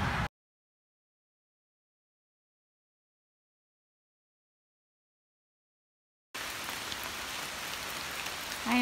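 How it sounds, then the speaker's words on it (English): Rain falling steadily on a hiking trail along the Appalachian Trail, an even hiss of drops heard briefly at the start and again for the last few seconds after a long stretch of silence. "I am out in the rain this morning, getting soaked."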